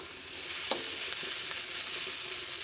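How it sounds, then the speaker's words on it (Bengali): Onion, green chilli and garlic fry in oil in a pan with a steady close sizzle, broken by a single sharp stir or clink near the start and a few light scrapes, with no voices. "পেঁয়াজ কাঁচা লঙ্কা রসুন দিয়েছি ভাজা হচ্ছে"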